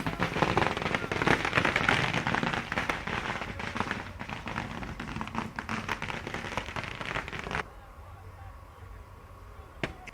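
Rapid crackling bursts of firecrackers and fireworks at a street celebration in Rajasthan, dense and noisy, fading to a quieter background near the end.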